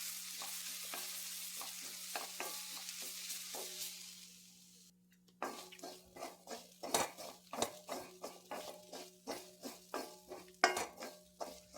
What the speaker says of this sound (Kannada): ಈಗ ತೆಂಗಿನಕಾಯಿಯನ್ನು ಸ್ವಲ್ಪ ಫ್ರೈ ಮಾಡಿ ತೆಗೆಯುವ, ಸ್ವಲ್ಪ ಬಿಸಿ ಮಾಡಿ ತೆಗೆಯುವ